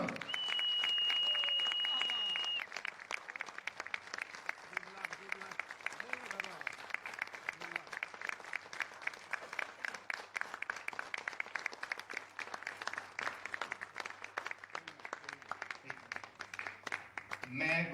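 Audience applause at an entertainment event in Lahore, steady crackling clapping sustained through most of the clip, with a voice speaking at the start and faint talk mixed in.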